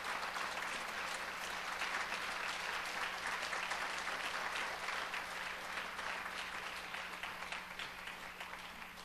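Church congregation applauding steadily and fairly loudly throughout, a dense wash of many hands clapping at once, with a low steady hum underneath.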